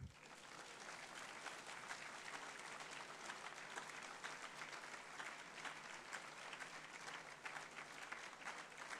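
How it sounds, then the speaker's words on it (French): An audience applauds to welcome Pierre Laurent at his January 2018 New Year's greetings event, dense, sustained clapping from a large crowd that holds steady and fills the room for the whole stretch. "je vous demande d'applaudir et d'accueillir Pierre Laurent"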